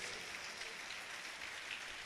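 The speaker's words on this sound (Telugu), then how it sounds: "2 చేతుల పైకి ఎత్తి చప్పట్లు కొట్టి" An audience at a live prayer service claps with both hands raised, a faint, even wash of many hands applauding without pause.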